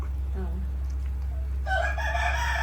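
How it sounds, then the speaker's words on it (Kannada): A native country hen clucks briefly, then a rooster crows loudly and close by over a low, steady hum. "ಅದೇ ಇದು ಒರಿಜಿನಲ್ ನಾಟಿ ಕೋಳಿ"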